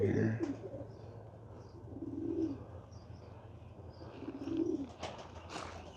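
Birmingham Roller pigeons cooing in their loft, three low soft coos at roughly even intervals, close and moderately quiet, with light chirps and rustling around them.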